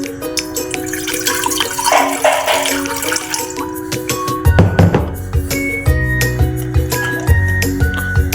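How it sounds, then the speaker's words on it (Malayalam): Water is poured into a pan on the stove for Maggi noodles, with a splashing trickle and a few light clinks over steady background music. "അതിനകത്തോട്ട് കുറച്ച് വെള്ളം ഒഴിക്കുക."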